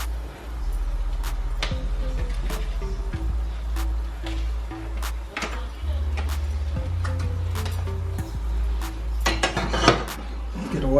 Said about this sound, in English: get all the stuffing out your pan